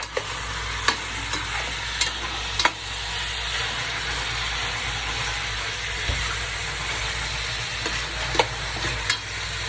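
Pork frying in a pan while being stirred, a continuous close sizzle under a low hum, punctuated by sharp occasional clicks and scrapes of the utensil against the pan.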